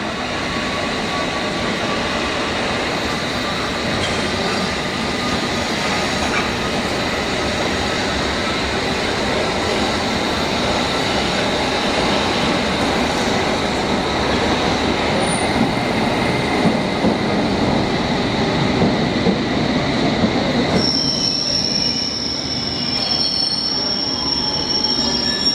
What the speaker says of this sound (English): My train's now arriving.